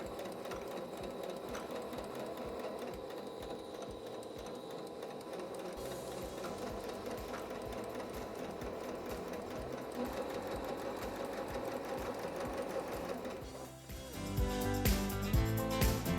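A sewing machine stitches steadily around the curved pocket bag of a smocked dress, a continuous close whir that shifts in tone near the end as the fabric is turned and the pace picks up.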